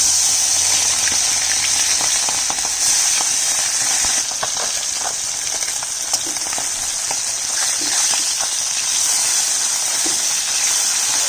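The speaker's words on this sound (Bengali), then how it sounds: "তেলটা কিন্তু খুব সুন্দর গরম হয়ে গেছে। এখন অল্প অল্প করে মাছ দিই।" Fish frying in well-heated oil in a pan, a steady dense sizzle with crackling pops running throughout at close range, no voices.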